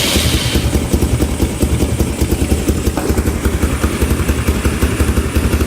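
Engine of a cheap Chinese four-wheeler ATV running unchoked, a loud, close, rapid pulsing putter with a steady idle rhythm and clattery mechanical texture.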